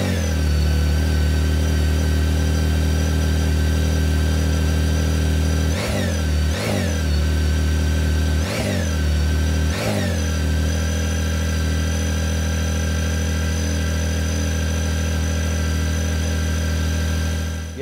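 A 2023 BMW K1600GTL touring motorcycle's six-cylinder engine idles steadily and close by, with four sharp throttle blips rising and falling in quick succession before it settles back to a smooth, even idle with no talking.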